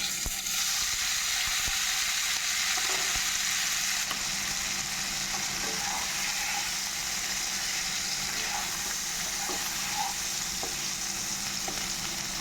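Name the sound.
boiled potatoes frying in oil with turmeric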